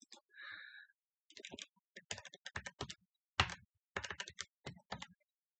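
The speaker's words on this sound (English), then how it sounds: "it's just faster to type them in" Fingers type on a computer keyboard in quick, close bursts of crisp key clicks. A brief electronic tone sounds at the start, and there is no talking.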